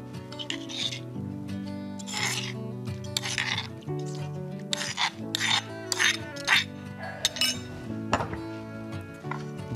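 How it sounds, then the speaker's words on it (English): Green papaya and dressing being pounded and mashed by hand for Thai papaya salad, with repeated rasping, rubbing strokes and light clinks at close range in an irregular rhythm over a steady musical background. "We're just gonna use a bit of elbow grease and break that papaya down."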